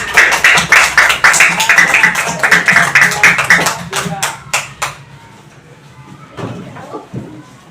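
A classroom group gives another round of applause after a presentation. The dense clapping gradually thins into a few scattered claps and then fades to near quiet, with one or two faint late claps at the end.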